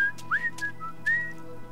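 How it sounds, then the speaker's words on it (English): Michael, a character in Grand Theft Auto V, whistles a few short, clear notes with gaps between them over a low background hum. "Michael's finally whistling"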